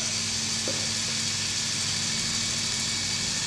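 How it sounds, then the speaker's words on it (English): A small battery-powered electric motor on a model rollercoaster hauls the cart up the lift, a constant mechanical hum and whir with a steady tonal drone, close and unbroken, no talking over it. "So if we switch on the electric motor"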